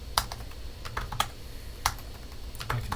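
Typing on a computer keyboard, with scattered individual key clicks in an irregular rhythm, close and moderately loud, with quiet gaps between the taps.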